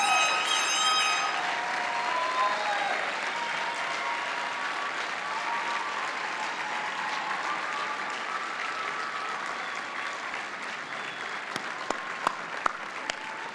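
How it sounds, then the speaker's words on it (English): Graduates at a university commencement ceremony applaud their friends and family, a dense, sustained roar of clapping from a large crowd that holds steady throughout and thins slightly near the end. "I invite you to please turn and applaud your friends and family who are here to"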